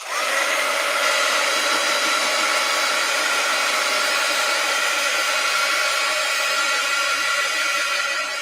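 A hair dryer blows steadily on freshly washed pans, a loud close whooshing hum holding constant without a break, with no talking over it.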